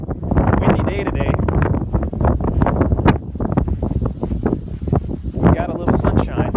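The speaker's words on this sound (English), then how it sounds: "Windy day today." Strong wind buffets the microphone in loud, uneven gusts, rumbling and roaring continuously with brief lulls between blasts.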